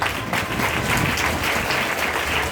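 A congregation claps and applauds during a Hindi church sermon, a dense, steady wash of many hands that holds at an even level throughout without pause.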